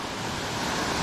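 A brief, continuous wash of rushing water from the small Final Falls, the last cascade at Fall Creek Falls, heard up close, broad and steady with a light breezy texture.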